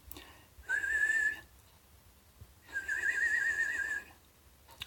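A tooth whistle in the Parker whistling style, sounded as two sustained, wavering high tones, the second more warbled, each about a second or more long with a pause between, close and clear with no talk.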